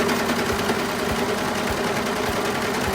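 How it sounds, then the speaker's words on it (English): A sewing machine stitches off the edge of fabric while hemming a short sleeve, giving a steady, close mechanical whir with a faint rhythmic thump throughout. "pull your fabric away and again just sew off the edge there"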